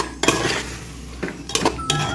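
Soya biryani being stirred in a pan over a medium flame, with a few separate metallic scrapes and clinks of a spoon against the pan, spaced out and fairly close.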